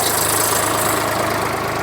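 Tractor engine hauling a plough through a field, a steady rumbling drone with a faint rhythmic knock, loud and continuous throughout with no voices.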